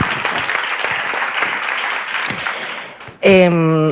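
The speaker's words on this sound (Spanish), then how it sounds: "¿La aplaudimos, por favor?" A studio audience on a Spanish talk show applauds a guest with steady, brisk clapping that swells and then drops away, followed abruptly by a voice speaking close up.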